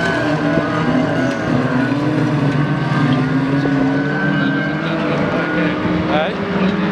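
Junior rods race cars at a Tongham Motor Club race give off a steady, loud engine drone that rises and falls slightly, heard under continuous commentator talk.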